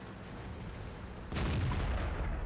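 A single heavy cannon shot from an M4A3E8 Sherman tank firing at a T-29 in a tank video game, a loud booming blast midway after a quieter engine-like rumble, ringing on afterward.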